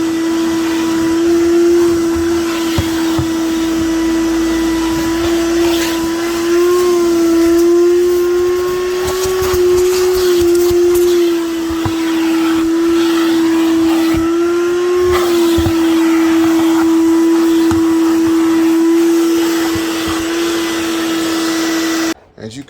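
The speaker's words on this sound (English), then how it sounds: "I bought some new attachments for my vac, so now I got some better crevice tools to get with." A vacuum cleaner fitted with a crevice tool cleans the interior of a 2009 Buick Enclave, giving a loud, continuous high whining drone that wavers slightly in pitch before cutting off at the end.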